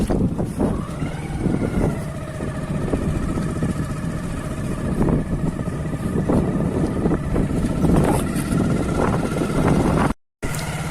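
A motorcycle engine hums steadily as the bike is ridden through a tea garden, a continuous close drone with wind rush, a brief dropout near the end and no talk.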